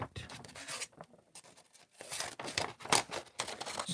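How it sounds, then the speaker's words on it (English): Scissors snip through paper being cut up for papier-mâché, a series of close, crisp crunching cuts and rustles with short pauses between strokes, no talking. "Some nice paper cutting noises."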